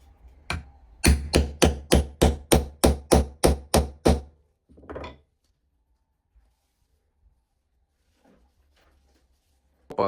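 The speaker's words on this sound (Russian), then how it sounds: "И бьем молотком" A hammer strikes about a dozen times in a quick, steady rhythm, loud and close, followed by a few softer knocks and scattered faint taps.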